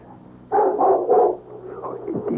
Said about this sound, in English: A dog barked 3 times.